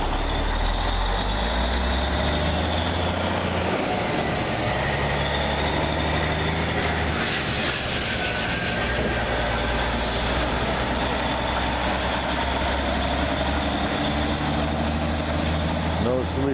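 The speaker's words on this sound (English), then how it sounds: "No sleeper, but his trailer's got a bad air leak." Idling truck with a trailer whose air brake system has a bad leak, a steady hiss running under the low engine rumble throughout, with faint voices in the background.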